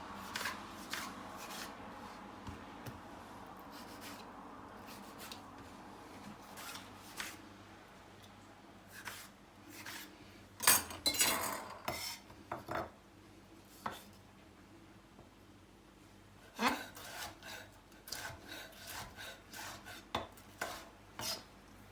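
Small, not very sharp knife cutting chicken or ingredients for yakhni pulao, quiet irregular taps and scrapes against a board, clustering into brief louder bursts in the middle and toward the end.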